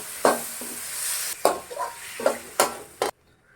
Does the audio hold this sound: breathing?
no